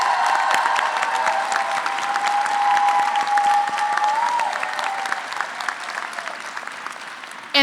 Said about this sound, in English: Graduates, please show some appreciation for all of them right now by giving them a round of applause.